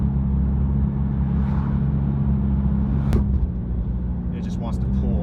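A Nissan GT-R with a carbon fiber front lip cruising on the road that pulls to the right, giving a loud, steady low engine and road-noise rumble inside the cabin with a brief sharp click partway through.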